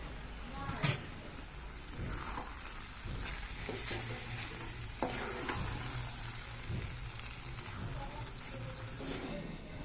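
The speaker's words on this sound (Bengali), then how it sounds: "নামানোর আগে সামান্য ঘি দিয়ে নিচ্ছি" Ghee added to red lentil khichuri cooking in a pot gives a low, steady sizzle and bubbling with a few faint utensil knocks, heard close and continuous.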